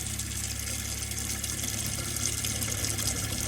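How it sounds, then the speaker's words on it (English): A motorhome tap runs water steadily while its onboard water pump hums underneath, a continuous close rushing flow with a low motor drone and no talking. "What you absolutely have to do is just turn your pump on, your tap on, sorry. Wait for the pump to kick in, nice and quiet as well."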